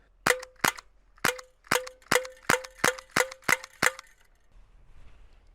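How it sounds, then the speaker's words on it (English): A KWC M-11 air pistol fires BBs in ten sharp, snappy shots, the first few spaced and the rest in a quick, fairly even rhythm, close and loud, followed by a faint rustle. "how fast can I fire all 39 BBs out of this air pistol?"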